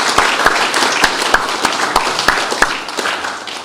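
An audience at a Progressive Christianity forum launch claps for a speaker, with close, loud, regular claps standing out over a dense wash of applause for a few seconds.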